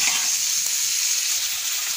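Onions frying in hot ghee, a steady bright sizzle that holds evenly throughout at close range, with no voices over it.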